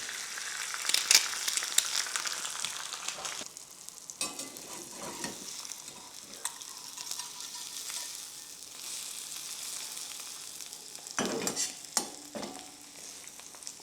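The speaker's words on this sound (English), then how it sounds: "So let's just crack an egg in here real quick." An egg fries in a pan alongside breakfast sausage, a soft steady sizzle with occasional clatters and crinkly scrapes, including a louder cluster of knocks near the end, and no one speaking.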